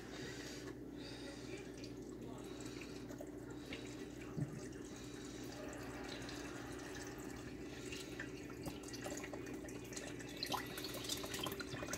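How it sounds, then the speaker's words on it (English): Coconut water pours steadily into a blender jar for a berry smoothie, a continuous liquid trickle over a low kitchen hum with a brief clunk midway and small knocks near the end. "Now I got some coconut water to add."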